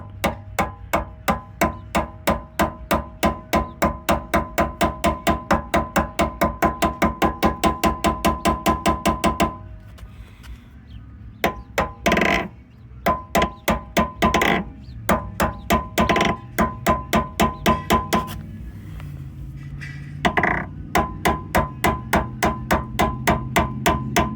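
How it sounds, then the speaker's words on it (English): Small bushings are tapped into a Chevy OBS truck door hinge with a hammer, producing long runs of rapid, evenly spaced metallic taps with a couple of short pauses and a faint hum behind. "gently tap these in nice and straight"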